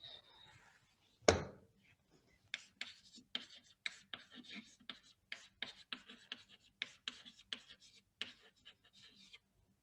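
Whiteboard eraser rubbing across a board during a structural engineering lecture on prestressed beams, a burst of short, regular scrubbing strokes following one sharp knock, fairly close and moderately loud with no talk over it.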